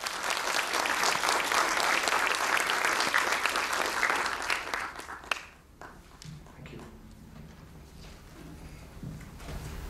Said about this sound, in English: Let's give a big applause to him.